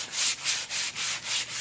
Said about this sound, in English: Give it a little sanding too.